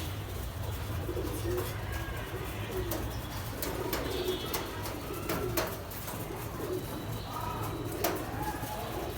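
Pigeons coo repeatedly in a low, rounded rhythm, close and steady, with occasional chirps and soft flutters mixed in and no talking.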